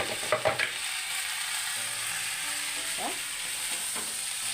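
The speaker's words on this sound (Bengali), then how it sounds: "সেদ্ধ করা নুডলস আর তার সাথে মশলা একসাথে দিয়ে দিলাম।" Drained boiled noodles are tossed with spice mix and butter in a hot pan, sizzling steadily under a few quick utensil scrapes and taps near the start.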